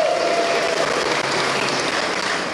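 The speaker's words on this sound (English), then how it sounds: "let's clap for Yuki" An awards ceremony audience at the Arts Pasifika Awards claps for an honoree, a full, even burst of hand clapping from a large indoor crowd, loud and sustained throughout.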